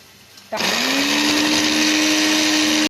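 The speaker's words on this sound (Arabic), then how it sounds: "وهضربها كده ايه في الخلاط" A blender switches on abruptly and runs at a steady, loud whir with a constant motor tone, continuing without pause to the end, blending cooked molokhia.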